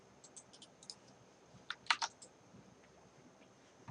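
Quiet computer clicks in an office setting come as a scattered series of sharp, faint taps with a brief cluster near the middle, over low room hush and no talking.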